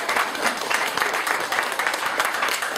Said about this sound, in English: I think we should all give him a round of applause for that